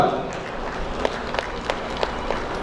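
At an oath ceremony for a regional association, scattered clapping and crowd noise sound at moderate distance, with a few sharper claps standing out from the murmur.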